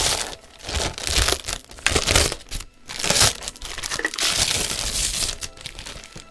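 Clear plastic shrink wrap is crinkled and torn off a MagicRefiner M31 65% mechanical keyboard, loud close crackling and tearing in irregular bursts with brief pauses, no talking.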